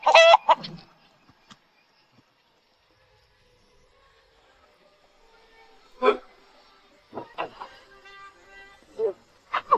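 Hens cluck at a village coop at night: a few short, sharp clucks at the start, then quiet, then a scattered series of clipped clucks and calls, fairly close and distinct.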